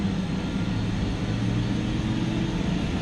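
A small airplane prepares for takeoff at an airport in Nepal, its engine giving a loud, steady droning rumble that holds unbroken throughout.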